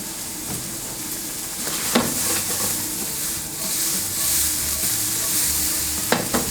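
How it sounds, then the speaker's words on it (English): Inariage tofu frying in a hot pan alongside fried rice, a steady close sizzle with occasional stirring scrapes and clacks throughout, no talking. "we're just going to fry off this inariage a little bit so it gets a little bit crispy"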